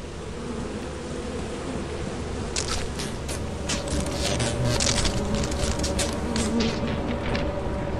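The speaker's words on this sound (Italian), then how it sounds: "Perché ti stanno attaccando le api?" Bees buzz around a beekeeper in a continuous droning swarm. Scraping and rustling clicks come through over the hum in the second half, and no one speaks.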